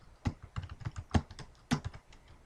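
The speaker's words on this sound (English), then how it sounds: "And we can just type in Google's website here" A computer keyboard clatters as a website address is typed, a quick irregular run of close, crisp keystrokes with a few louder taps, with no talking.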